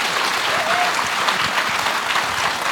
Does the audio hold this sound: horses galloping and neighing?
no